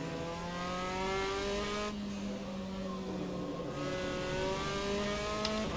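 A Formula 4 race car in Assetto Corsa at Interlagos revs hard, its engine pitch climbing, dropping briefly at a gear change, then rising again, loud and steady with no talking.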